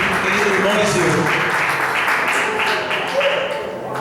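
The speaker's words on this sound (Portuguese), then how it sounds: "Uma salva de palmas para Jesus." Applause from a church congregation, a broad steady wash of clapping that carries through the clip alongside voices.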